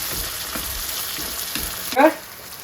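Chopped tomato fries in a pan of curry base for a squid and drumstick curry, sizzling steadily up close while a spoon stirs and scrapes in short strokes, with one brief clatter near the end.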